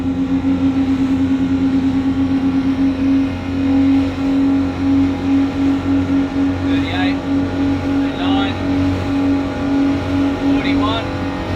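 A 2018 Outlaw 9100 catamaran with twin 350HP Suzuki Duoprop outboards accelerates at sea, a loud steady engine drone with rising pitch and pulsing rhythm, with wind and water noise and brief talk over it.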